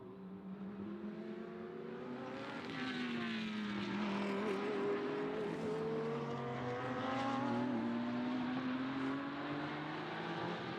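Race cars lapping the Magny-Cours circuit during a live race session: a continuous engine drone with rising and falling pitch sweeps as cars pass, moderately loud and steady, with no talk.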